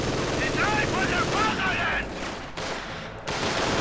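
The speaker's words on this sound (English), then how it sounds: "Now we go, submachine gun, sort of the Soviet counterpart again." Rapid submachine gun fire from a Soviet weapon in a video game rattles continuously at close range, with a voice speaking over part of it.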